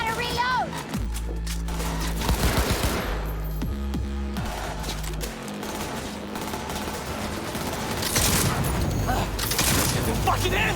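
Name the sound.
gunfire in the video game Cyberpunk 2077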